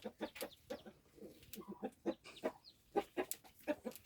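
Several chickens cluck in short, irregular bursts close by, some calls sharper and higher than others, with no talking.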